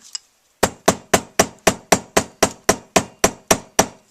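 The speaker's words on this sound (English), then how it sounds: "I'm going to hammer this a little bit." Twelve sharp metallic hammer strikes on folded wire for a wire tree of life, in a steady, even rhythm, each ringing briefly before the next, close and loud with no talking.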